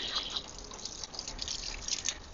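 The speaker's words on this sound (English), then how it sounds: "now that I've just rinsed it a little bit and everything is nice and wet" Water running and dripping over plant roots as rotten bits are rinsed away, a steady close splashing trickle with no talk.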